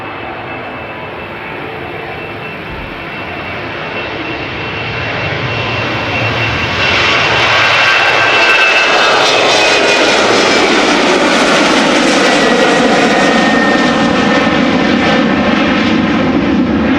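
Eastern Airways jet departing Amsterdam Schiphol Airport, its engines swelling from a distant rumble into a loud, close roar with a rising whine, holding at full power as the aircraft passes.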